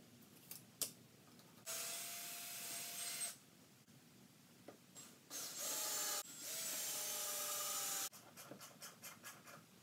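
A ratchet wrench drives 3/8 by 2.5 inch galvanized lag screws through dolly wheel plates into wood. Bursts of whirring, clicking ratcheting come close and alone, with pauses between them during a backhoe dolly build.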